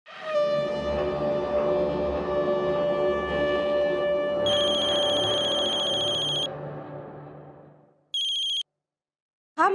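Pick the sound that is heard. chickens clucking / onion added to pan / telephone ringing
telephone ringing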